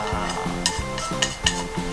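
Fried bacon and egg being scraped into a bowl of ripe avocado salad, with about five sharp utensil clinks against the dish in a steady rhythm over a soft tonal background.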